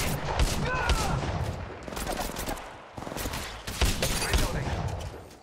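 Rapid bursts of gunfire in the mobile battle royale game Apex Legends Mobile, loud and dense, with overlapping shots and game effects throughout a chaotic firefight.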